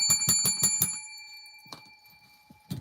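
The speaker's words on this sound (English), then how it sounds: "Ding that bell on the table." Small bell on a table dinged rapidly about five times in an even run, each strike ringing with a bright metallic tone, followed by a lingering ring, a soft knock and a faint voice.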